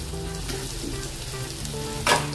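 Steady, close sizzling of garlic and ginger frying in hot oil in a pan, with a brief scrape of stirring near the end and no voices.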